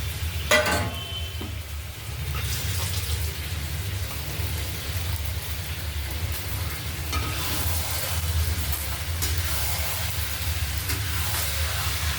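Meat and potatoes fry lightly in a pan for a home-cooked meal, a continuous crackling sizzle like rain with a low steady hum beneath, close and even throughout, opening with a brief clatter and no talking.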